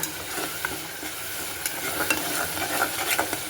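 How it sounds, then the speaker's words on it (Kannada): Chutney frying in ghee in a pan while being stirred, a steady close sizzle with scraping stir strokes throughout and no talking. "ತುಪ್ಪ ಎಲ್ಲ ಮೇಲೆ ಬಿಟ್ಕೊಳ್ತಿದ್ದಲ್ಲ ಸ್ವಲ್ಪ ಹಂಗೆ ಇದರಲ್ಲಿ ಚೆನ್ನಾಗಿ ಹಸಿ ವಾಸನೆ ಹೋಗಿ ಸ್ವಲ್ಪ ಫ್ರೈ ಮಾಡ್ಕೋಬೇಕು"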